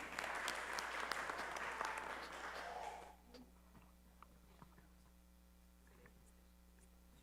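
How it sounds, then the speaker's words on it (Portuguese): A church congregation claps for group 1 during a Sunday school morning service. The brief burst of applause fades after about three seconds, leaving a quiet room with a low mains hum and scattered small ticks. "Palmas para o grupo 1."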